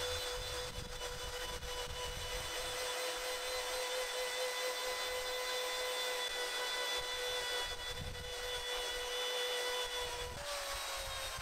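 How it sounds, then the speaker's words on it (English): A belt sander with an 80-grit belt runs steadily, removing paint from wooden signs, with a continuous high whine and gritty abrasive rasp, uninterrupted throughout. "with an 80 grit sanding belt, I could remove the excess paint from both signs using my belt sander."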